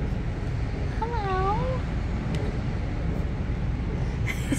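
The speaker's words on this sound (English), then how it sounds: "here's the step two, where here the cats are" Cat at a cat cafe gives a single wavering meow, fairly close, over a steady background hum of room and traffic noise.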